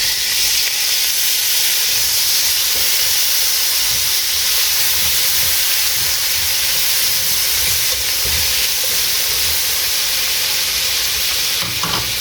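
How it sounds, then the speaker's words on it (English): Two large diced tomatoes and four garlic cloves hit a hot pan and set off a loud, close, continuous sizzle that holds evenly throughout, with no speech. "we're going to add in our diced tomatoes"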